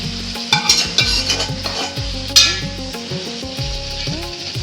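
Small eggs frying in a pan with spices while a spoon stirs them, producing steady close sizzling broken by repeated scraping strokes and a few sharper clinks.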